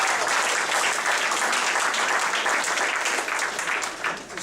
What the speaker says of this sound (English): I think we should all give ourselves a round of applause.